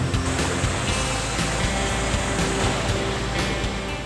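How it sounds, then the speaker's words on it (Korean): Dense, constant rushing roar of Jaein Waterfall in Korea's Hantan River gorge, falling between basalt columns, loud and close, with no speech. "저기 현무암 주상절리 사이에서 쾅쾅 쿵쾅 신비하고 장엄한 제인 폭포가 부부를 기다리고 있어요"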